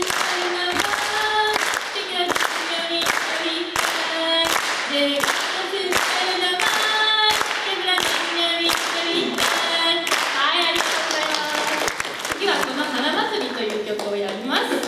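An audience claps along in a steady, even beat at a Japanese group's performance of Andean folk music, with sharp regular hand claps over sustained tones and voices.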